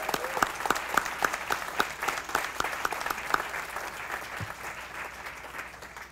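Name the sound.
audience applause for the Harper Jazz Ensemble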